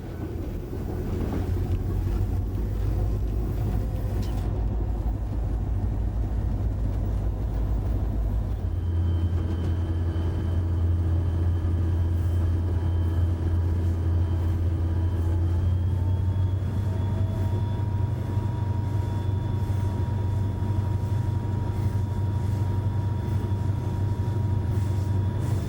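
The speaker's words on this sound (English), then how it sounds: "Cliff has to use some throttle to lift the train over the next ridge" A BNSF freight locomotive climbs a hogback ridge on the Cuba Subdivision in the Ozarks, heard from the cab. A deep diesel drone rises as the throttle opens partway through, then holds loud and steady with whining tones above it.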